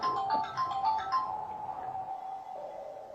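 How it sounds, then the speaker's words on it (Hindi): A phone ringtone plays as a short melodic electronic tune of quick, bright repeating notes, fairly close and moderately loud, then fading into a steadier lower tone with quiet background sounds. "बेटी का फोन है।"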